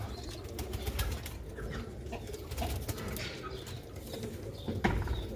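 Sialkoti pigeons coo softly in a loft, low throaty calls repeating amid faint rustling and occasional wing sounds, with no one speaking.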